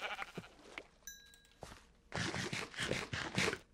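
Sheep in the video game Minecraft bleat in a few short cries, loud and close, standing alone after some quieter game sounds and footsteps.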